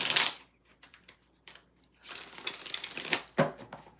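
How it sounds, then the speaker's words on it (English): Tarot cards being shuffled in a few quick riffling bursts, with brief pauses between them, close to the microphone. "let's do 6 shuffles."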